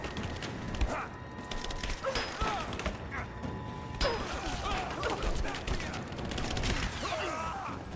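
Gunfire in the game Rise of the Tomb Raider, sustained crackling shots and impacts amid mechanical clatter and thuds, dense and busy throughout with voices faintly under it.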